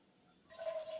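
Lemon juice poured from half a small lemon into Italian cream frosting, a brief liquid trickle starting midway and running steadily to the end, close and fairly quiet.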